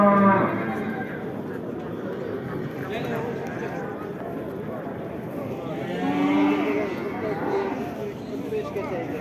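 Cattle lowing among livestock at the Karakol animal market, with horses also for sale, a moo rising over a steady crowd murmur and people talking nearby throughout.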